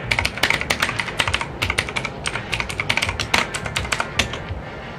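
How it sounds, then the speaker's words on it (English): Fast typing on a computer keyboard while entering a password, a loud, close, rapid clatter of key strikes in uneven bursts with no voices. "I gotta stop typing so fast there."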